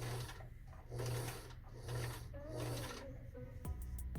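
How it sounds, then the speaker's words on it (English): A sewing machine back stitching on a muslin collar, its motor whirring in short bursts that rise and fall as it runs slowly, ending with a brief clack. "I'll go ahead and drop my needle. I'm going to back stitch."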